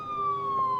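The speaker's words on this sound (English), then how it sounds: "Nice police sirens" Wailing police siren in a park scene of a film, a steady sweeping tone carrying clearly over a low outdoor background throughout the short stretch.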